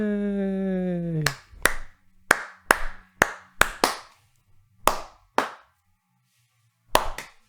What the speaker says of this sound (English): I at least clapped under the table so it wouldn't peak that.